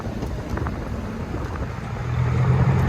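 A straight-piped 2019 Mercedes GLE 43 AMG with a bi-turbo engine gives off a low, rough exhaust rumble that swells louder near the end, mixed with wind buffeting on the microphone.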